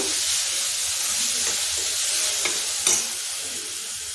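Star fruit pieces cooking with salt and jaggery in a pan give a steady close sizzle and frying hiss, with a few light stirring scrapes and one brief clink near the end.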